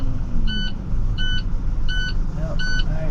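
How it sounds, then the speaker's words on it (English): Snowplow truck cab warning beeps, four evenly spaced high-pitched double tones over a loud rumbling engine and road noise. "Alright, keep beeping at me."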